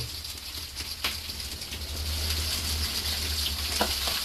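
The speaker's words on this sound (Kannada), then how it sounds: "ಫ್ರೈ ಮಾಡ್ಕೋಬೇಕಾನ ಈರುಳ್ಳಿನ ಎಣ್ಣೆನಲ್ಲಿ" Onions sizzle and fry steadily in hot oil in a home kitchen pan, a continuous crackling hiss with a few sharp clinks of a utensil, close and fairly loud with no talk.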